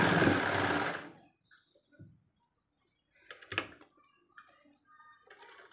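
A sewing machine runs along the edge of a blouse in one loud stitching burst, then falls to faint scattered clicks and handling noises.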